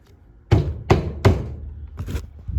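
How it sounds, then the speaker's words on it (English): A screw head is banged into pallet wood by hand to start a hole: three loud, close thuds in quick succession, then two lighter knocks after a brief pause. "I gave it a quick couple bangs."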